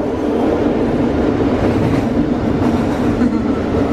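A Paris RER A suburban train rumbles steadily from the inside, a loud, dense ride noise with faint rail clatter that continues throughout, without talk.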